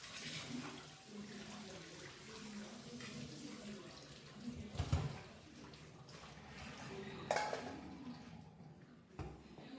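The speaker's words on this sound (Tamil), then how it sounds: "இதை நம்ம நல்லா பச்சை தண்ணி போட்டு அலசி நம்ம எடுத்துக்கலாம்." Cold tap water runs steadily over cooked pasta as it is rinsed, a soft continuous splashing with a few louder sloshes and clanks, fairly faint throughout.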